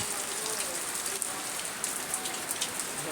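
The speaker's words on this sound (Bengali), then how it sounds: "বৃষ্টি প্রচুর বাইরে গেছে" Downpour outside with a thick, unbroken wash of rain and occasional crisp drops striking close surfaces.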